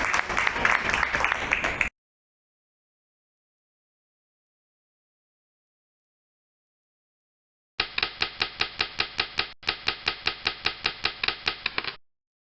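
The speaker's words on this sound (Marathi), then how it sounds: "जोरदार टाळ्या" A room at a business networking meeting bursts into applause, then falls silent before rhythmic clapping in unison starts up, even and loud.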